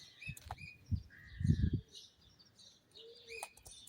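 Small birds, likely sparrows, chirp near a tree by a house, a few scattered tweets and calls rising over low rustling and faint fluttering, moderately close but quiet.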